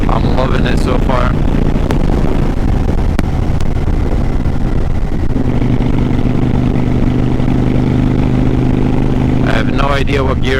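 A Honda Shadow 750 Phantom motorcycle being ridden, its engine a loud steady drone mixed with heavy wind noise, while a rider talks over it at times.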